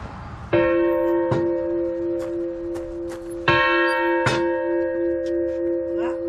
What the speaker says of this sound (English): it's got you can swing the bell to ring it, and it's also got a donger on the side, a lever